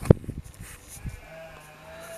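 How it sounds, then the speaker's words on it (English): Sheep bleat faintly in the distance on an autumn morning in rural Donegal, a few short calls over quiet outdoor ambience. "You can just hear the sheep."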